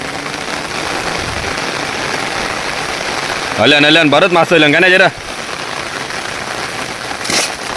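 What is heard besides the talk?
heavy rain falling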